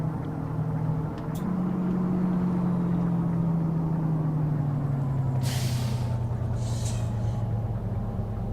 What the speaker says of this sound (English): Hit the Jake brake, start getting slowed down.